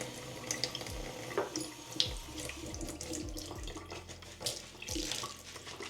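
Tap water running into a bathroom sink to dampen a facial sponge, a soft, steady splashing stream at close range with small handling knocks, fairly quiet and without talk.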